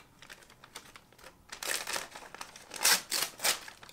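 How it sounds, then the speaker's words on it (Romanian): Christmas wrapping paper is torn open in quick crinkling rips, quiet rustling at first, then several louder bursts of tearing paper in close succession. "Rupe hârtia de unde poți."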